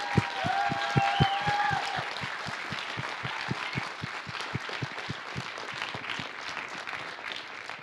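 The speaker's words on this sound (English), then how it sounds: "They are Kirsten and Rachel and Elijah, so they deserve a big round of applause as well" Audience applause after a junior high school drama performance, dense clapping from a crowd with a steady rhythmic beat of unified claps running through it, sustained at even volume, with a brief whistle early on.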